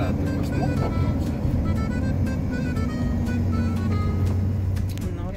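Car driving through the streets of Graz, Austria: a steady, close road rumble and engine drone that persists throughout, with traffic noise around and a voice speaking over it.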